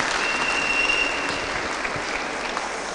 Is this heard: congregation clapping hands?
yes